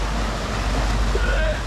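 A rapid on a river at Hot Springs, North Carolina, gives a close, steady rushing wash of turbulent water, with a faint voice briefly rising beneath the noise.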